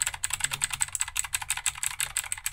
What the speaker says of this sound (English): It's a blue switch mechanical keyboard.